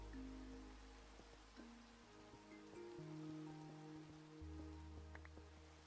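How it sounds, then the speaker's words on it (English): Steady, soft rain patters in a Minecraft-like block-building game, a continuous hiss of drops with gentle game music notes sounding over it, and no talking. "Ah, it's raining."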